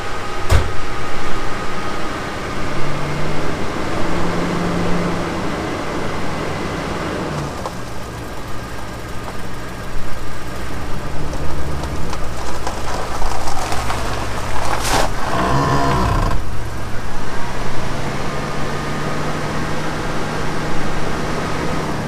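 A 1978 Oldsmobile Toronado barn find with a 403 engine, left sitting for decades, runs during a transmission test. It makes a steady, loud, close rumble with a brief clunk partway through.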